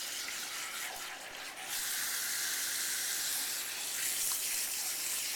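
Water runs steadily from a salon shampoo sink sprayer while hair is rinsed, a continuous close hiss that briefly dips before resuming at full strength.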